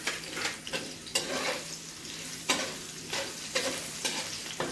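Potato pieces fry in oil with salt in a pan, giving a soft continuous sizzle broken by several sharp scraping stirs of a spatula, close and clear with no speech.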